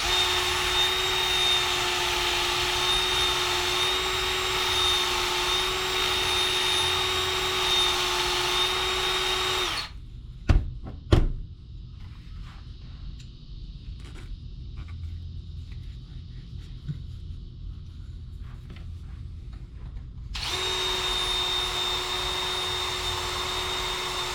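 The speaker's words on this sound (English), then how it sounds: "I'll just take my drill press" A drill press motor whines steadily and loud, stops abruptly for several seconds with a few knocks and clicks, then starts running again while drilling a knife handle.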